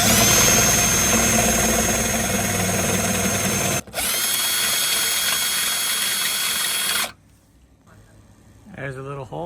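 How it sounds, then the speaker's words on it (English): A power drill whines loudly and steadily while boring a hole in the hood of a Tesla Model 3, with a brief pause partway through, then it stops and a voice speaks briefly. "I'm gonna drill a hole right now"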